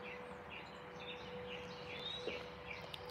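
Faint birds chirp and tweet repeatedly in the distance in the morning over a steady outdoor hum of traffic, with no one talking.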